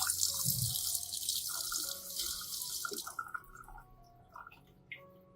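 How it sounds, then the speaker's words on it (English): Orchid roots are rinsed gently under running water, giving a soft splashing hiss for about three seconds before the flow stops and a few scattered drips and small wet sounds follow. "You should rinse gently to avoid damaging healthy roots."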